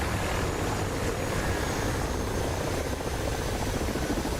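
A Mi-24 Hind helicopter in a combat video game gives off a dense, continuous rotor and engine roar that stays steady and loud from start to end.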